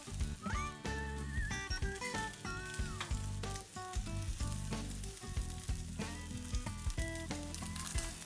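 A Korean-style rolled egg omelette with cheese sizzles and crackles steadily as it fries in a pan, loud and close, with music playing over it.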